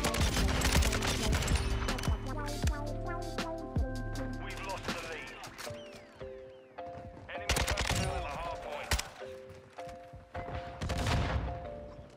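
Repeated bursts of rifle fire from a Kastov 762 in the Modern Warfare 2 video game, sharp close cracks in clusters with brief pauses, over game music and ambient sound.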